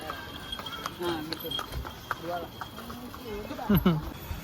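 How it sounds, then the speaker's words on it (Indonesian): Horse hooves clip-clopping on a path at a deer sanctuary in a Bandung forest park, faint scattered clops under ongoing nearby talk. "Terus di sini juga ada kuda"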